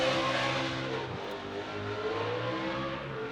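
Drift cars at a Formula Drift event in Salt Lake City, including the Pennzoil Ferrari and a Subaru BRZ, roar continuously with loud, sustained engine revving and shifting pitch, close and unbroken for a few seconds.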